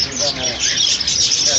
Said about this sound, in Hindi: ये भी ऑस्ट्रेलियन तोते हैं।